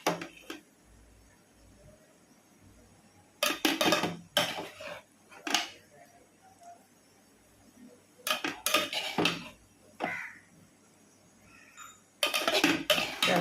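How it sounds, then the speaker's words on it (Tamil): Rice is mixed with green peas and mint in a metal pan: a spoon scrapes and clinks against it in bursts of close, busy clatter, separated by quiet pauses. "எல்லாத்தையும் போட்டு நல்லா ஈவனாக நல்லா கலரி நம்ம ரெடி பண்ணி வச்சுக்கலாம்ப்பா"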